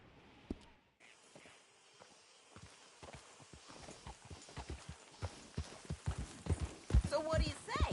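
Horse hooves clip-clopping in the video game Wild Wild West, starting as sparse hoofbeats and building into a quicker, louder gallop-like rhythm with game music and voices underneath.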